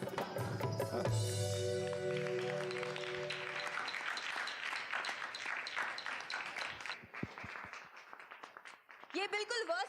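A studio audience claps and cheers for a singer on a televised Urdu singing competition. Sustained applause swells as the music ends, while a host talks over it.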